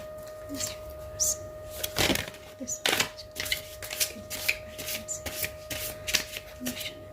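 Playing cards are shuffled close by in repeated quick riffling bursts over a faint steady hum, with a voice heard briefly.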